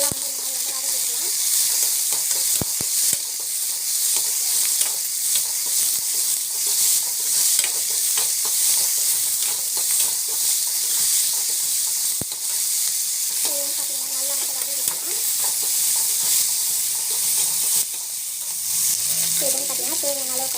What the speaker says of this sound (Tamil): நல்லா வந்து வதக்கிக்கலாம்.